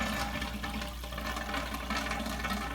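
Water drains from and refills an SS Brewtech stainless conical fermenter during clean-in-place: a steady, rushing, gurgling flow with a constant low pump hum underneath, close and unbroken, with no talk.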